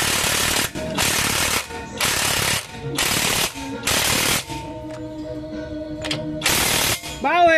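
Repeated loud bursts of a Bauer impact wrench tightening the wheel hub nut on a Mitsubishi Xpander, about six rattling hammering runs of under a second each with brief gaps, close up; a faint voice comes at the end.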